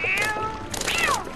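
A cat in the video game The Legend of Zelda: Twilight Princess gives two close, clear meows in quick succession, the second rising and then falling in pitch.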